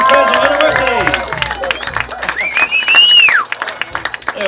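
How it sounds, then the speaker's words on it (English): An audience applauds at a live comedy podcast show staged at the Piping Live festival, with clapping mixed into crowd noise, whoops and overlapping voices, swelling and fading over a few seconds. "Give them another round of applause."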